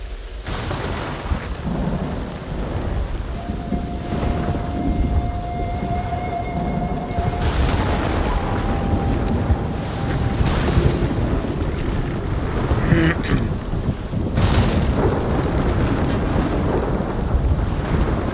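Lightning strikes crash through a steady thunderstorm in Ghost of Tsushima, with heavy rain hissing throughout and several sharp, loud thunder bursts spaced across the scene, the last ones especially close and booming.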